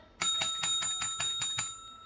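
A metal desk call bell is struck seven times in quick, even succession, each ding bright and ringing, with close, loud tones that decay quickly between strikes.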